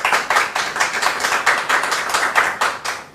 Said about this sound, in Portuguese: Nossa produção aqui está aplaudindo.